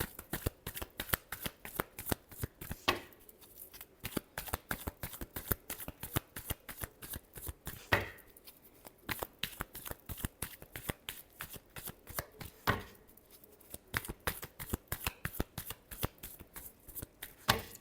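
Tarot cards being shuffled by hand, a long run of crisp, rapid riffling clicks that repeats in quick bursts with brief pauses, close and fairly quiet with no talking.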